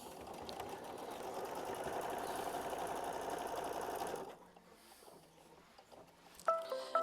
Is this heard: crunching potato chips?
no